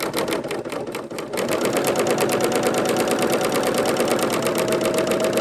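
A serger runs a wide 2-thread wrap stitch, loud and close. Its rapid needle rhythm is steady and unbroken, after a brief uneven start.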